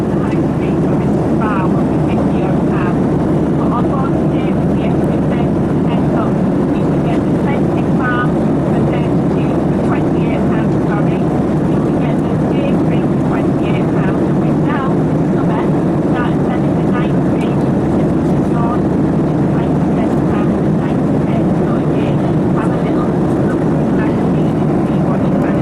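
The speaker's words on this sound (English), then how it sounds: "So far the flight's going really," Airplane cabin noise during a night flight to Rhodes, Greece, a constant low engine roar and rushing air filling the background while a person talks over it.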